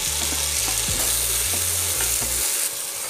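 Potatoes and tomato frying in oil in a pan, with a bright continuous sizzle and occasional stirring scrapes over a low mechanical hum that cuts out near the end.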